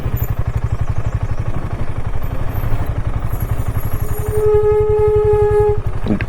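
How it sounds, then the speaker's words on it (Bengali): A motorcycle descending a steep, rain-damaged mountain road between Mangan and Lachen, its engine thrumming in a fast steady pulse, with a sustained high squeal from the disc brake pads rising near the end. "আমার ডিস্ক প্যাড থেকে আওয়াজ হচ্ছে"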